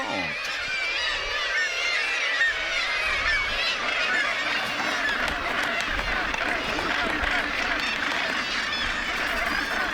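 A crowded seabird colony of gannets, guillemots, gulls and fulmars raises a dense, unbroken clamour of overlapping calls, steady and loud throughout with no pauses.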